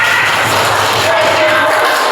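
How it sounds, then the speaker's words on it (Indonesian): Audience applause for a group after its classroom presentation, a steady broadband wash of clapping filling the room with some crowd noise, continuous and fairly loud throughout. "Tepuk tangan untuk kelompok 2."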